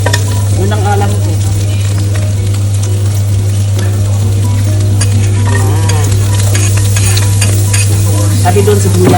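Pork sisig fries loudly in a pan as its fat renders, a continuous close sizzle with occasional scraping and stirring, over a steady low electrical hum.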